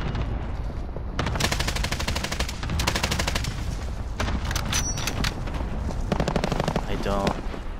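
Loud bursts of machine gun fire in the video game Call of Duty Warzone rattle in repeated rapid volleys, with booming impacts and other game sounds packed around them.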